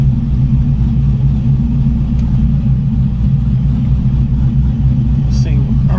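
A ProCharger-supercharged Chevrolet Trailblazer SS idles with a loud, steady low rumble close by, and a brief whine rises near the end.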